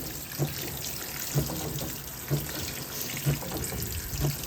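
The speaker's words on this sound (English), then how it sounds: "Now we're going to top off for the rinse, and I will come back when it's full." Fisher and Paykel CleanSmart washing machine fills with water for the rinse, a steady rushing flow with soft regular thumps recurring about once a second, heard alone at moderate volume.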